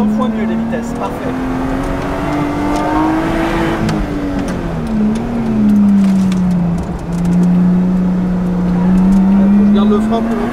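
A 500 hp Lotus on a track day climbs and drops through the gears, its engine rising in pitch, easing off and pulling again, loud and close from inside the car, with a coach talking over it.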